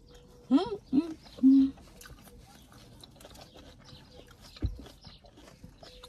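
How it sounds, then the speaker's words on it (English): Outdoor birds give a few short, loud calls near the start, then the scene settles into faint background chatter and rustling, with a thump near the end. "I hope y'all could hear the birds."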